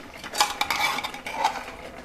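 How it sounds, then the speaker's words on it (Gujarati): Ghee goes into a pan of bread halwa and is stirred, a metal spoon clinking and scraping against the pan in quick irregular strokes, close and fairly loud with no talking. "હવે મિત્રો આમાં થોડુંક આપણે ઘી નાખી દઈએ."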